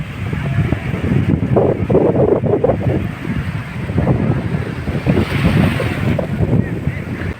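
Surf rolls in on Vagator Beach in North Goa, a continuous rumbling wash of breaking waves mixed with wind buffeting the microphone, fairly loud and close.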